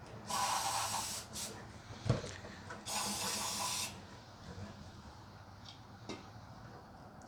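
Carb cleaner hisses from an aerosol can in two bursts of about a second each into a Weber IDF carburettor on a classic VW, with the spraying done inside a cardboard box. A quiet clunk sounds between the bursts.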